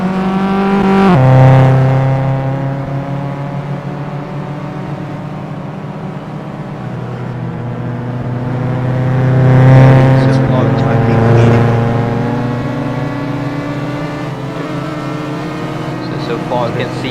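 Race car engines in Roblox GT3 league racing drone steadily under continuous commentary, with pitch rising and falling as the cars accelerate and pass, swelling louder around a couple of moments.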